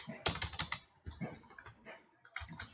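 Quick bursts of typing on a computer keyboard as a company name is entered in Microsoft Word, soft close clicks in three short clusters with brief pauses between.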